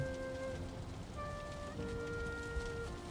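Steady rain hisses evenly throughout in the video game Valheim, with faint tonal music lines running underneath.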